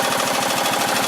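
A replacement engine on a John Deere LA125 lawn tractor runs steadily close by, a loud, even, rapidly pulsing chug with no voices over it.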